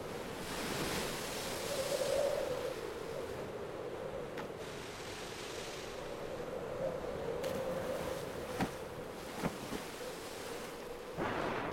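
The sea roars and waves surge during a storm, a broad continuous rush with gusty swells and occasional sharper splashes, fairly distant and steady, with no voices.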